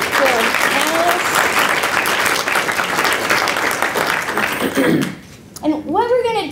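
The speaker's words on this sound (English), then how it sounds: "So if we could give a round of applause to our panelists." Audience applause for the panelists at a panel discussion, a loud sustained round of clapping that fades near the end as a speaker begins talking.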